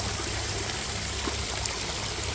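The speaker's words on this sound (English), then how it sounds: "it's a lot of water coming down and splashing onto another rock" Steady broadband splashing of a garden water feature, water pouring down and striking rock, continuous and close with no voices over it.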